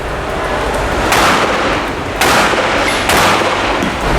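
Shotgun fired at a shooting range: three loud, sharp blasts spaced about a second apart, each with a short ringing decay over steady background noise.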